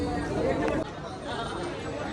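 A dense crowd chatters at Shirdi temple, with many overlapping voices forming a close, steady murmur.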